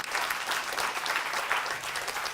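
An audience at an election debate applauding the organiser as he comes up, a dense, even burst of many hands clapping that carries on steadily and strongly through the whole moment, with no voices rising above it.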